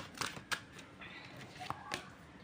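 Tarot cards being shuffled, with a few soft riffling bursts and card slaps over quiet room tone, close and low in level.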